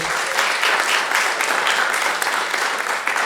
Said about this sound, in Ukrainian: оплески ще одній мамі